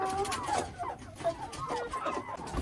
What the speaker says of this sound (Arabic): هادوك الدجاجات بدا تبيضو ليا، بدا وحدة فيهم بدا تبيض